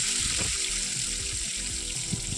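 Tomato pieces frying in a pan with onion: a continuous hiss and sizzle with a few soft stirring knocks and bubbles, even in level, with no voice heard.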